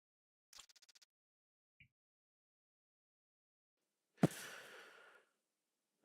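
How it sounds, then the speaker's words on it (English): Muffled breathing of an Escape From Tarkov game character wearing layered face coverings: a short fluttering intake with rapid pulses, a faint tick, then a louder, sharp-onset rasping exhale lasting about a second, heard close and alone without talk. "I get the cool breathing noise because I have a whole bunch of stuff covering my guy's face"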